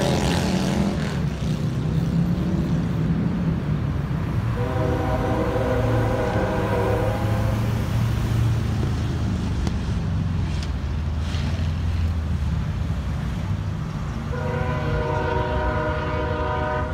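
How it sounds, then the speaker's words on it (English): A BNSF freight train led by an SD70ACe locomotive rumbles past loud and close, its multi-note horn blaring in long blasts at the start, middle and end over constant wheel roar and wind. "here comes another train"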